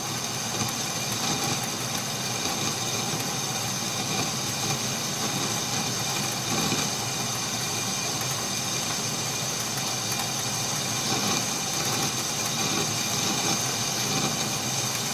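A metal lathe with a small boring bar boring an eccentric hole for a milling attachment, giving a constant loud machine hum and vibrating chatter throughout.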